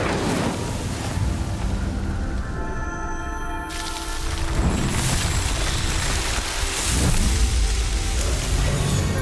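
A fire spell is cast in Hogwarts Legacy, setting a pyre ablaze: a broad whooshing roar of flames that swells and stays loud and steady for several seconds, with a rumbling low end.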